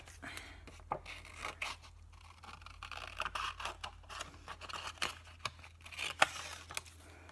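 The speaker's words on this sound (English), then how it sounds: "And I'm just going to fussy cut." Scissors fussy-cutting card stock around small firefly and flower shapes for a handmade greeting card, giving a run of quiet, uneven snips and paper scrapes close by with no talking.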